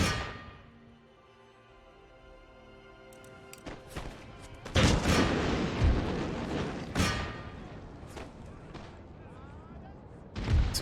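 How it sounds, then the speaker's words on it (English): Cannon and gunfire from an Empire: Total War battle against armed peasantry: a string of sharp booming shots and thuds, one big blast near the middle followed by scattered reports, loud over a continuous battle din. "Oh, they actually have a cannon."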